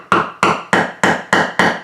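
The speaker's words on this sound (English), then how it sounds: "You just take the hammer" A hammer taps a wooden perch into the entry hole of a suburban birdhouse kit, six sharp, evenly spaced knocks close by with no talk.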